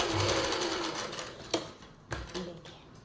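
A sewing machine stitches a pleat on palazzo pants in a fast mechanical whir that slows and stops, followed by a few clicks and handling knocks.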